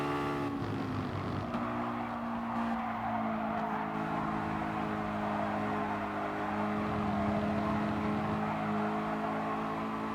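Mazda MX-5 Roadster touring cars battling for the lead in a racing video game, engines droning steadily with layered harmonic whine and occasional tire squeal, continuous and fairly distant as seen from a spectator view.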